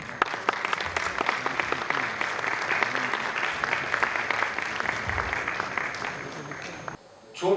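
Thunderous applause from a theatre festival audience, dense rapid clapping sustained for several seconds before abruptly cutting off, with a voice starting to speak at the very end.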